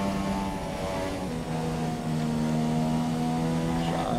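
Formula 1 racing car engine in the F1 2017 video game at the China race, held at low revs to save the engine: a constant droning whine that dips in pitch briefly, then holds steady and loud.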